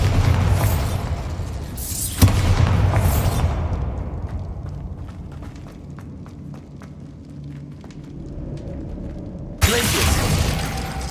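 Bombarda explosion spell in Hogwarts Legacy, loud booming blasts near the start, a quieter rumbling and clattering stretch, then another sharp, loud blast near the end.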